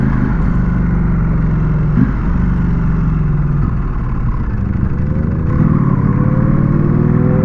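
A Ducati Panigale V4S, Yamaha R6 and Suzuki GSX-R600 on a London night ride drone loudly and steadily, with rising high-pitched whines as they rev up and shift, close by and continuous throughout.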